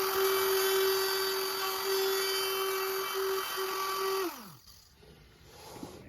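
A router cuts wood on a homemade wedgie sled for woodturning, a loud steady high whine of the spinning bit through the pass that winds down sharply near the end and fades into quiet.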